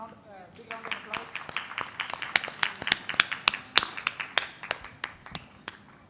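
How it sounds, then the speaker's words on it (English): A small group claps at a medical gathering, sparse, individual sharp claps that build into a scattered, irregular round, then thin out after a few seconds. "So we can have a good round, big round of applause."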